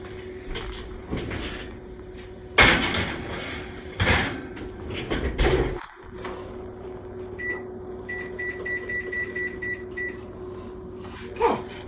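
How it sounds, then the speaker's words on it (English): An oven door thumps open and shut as a pizza tray goes in for eight minutes, with several sharp knocks and clatters, then a hum and a series of faint electronic beeps from the appliance. "And I am going to put this in the oven 8 minutes."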